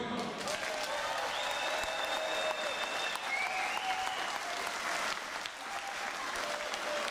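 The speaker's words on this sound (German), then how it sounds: "Beifall von euch." Outdoor crowd applauding at a tractor world-record gathering of 1,815 tractors lined up in a convoy, steady dense clapping holding for several seconds with a few whistles and cheers cutting through, easing slightly near the end.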